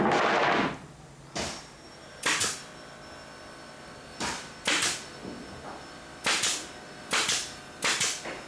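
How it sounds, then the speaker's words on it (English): A pneumatic nail gun driving brads into a wood stair tread during modular home construction, heard as sharp, loud, close snaps, alone or in quick pairs, spread unevenly over several seconds with no talking. "some brads will be shot in just like these"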